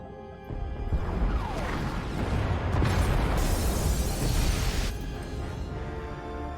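An explosion destroys the escape pod bays with a swelling, roaring blast that rumbles and crackles for several seconds before fading into a low background hum.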